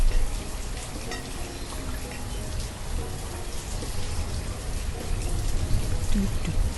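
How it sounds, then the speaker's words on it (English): Steady rain from a storm in the city-building game Banished, an even hiss of drops falling on surfaces with low rumbling beneath, continuous throughout with no talk. "just listening to the rain and the thunder"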